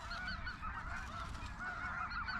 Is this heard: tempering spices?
no